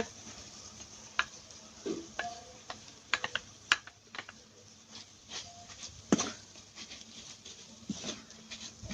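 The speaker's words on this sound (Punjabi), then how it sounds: "ਹੁਣ ਇੱਥੇ ਪਾ ਦਾਂਗੇ ਜੀ ਆਪਾਂ ਉਬਲੇ ਹੋਏ ਜਿਹੜੇ ਕੱਦੂਕਸ਼ ਕਰਕੇ ਰੱਖੇ ਸੀ ਆਲੂ ਉਹਨਾਂ ਨੂੰ ਕਰ ਦਾਂਗੇ ਮਿਕਸ" Grated boiled potatoes are stirred into spiced peas in a pan for an aloo matar sandwich filling, with soft scraping and tapping of a spoon over a gentle sizzle, close and quiet, no voices.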